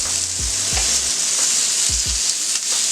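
Thick-sliced bacon fries on a steel griddle with a loud, steady, close sizzle and crackle, broken by several low thumps as strips are laid down, and nobody speaks.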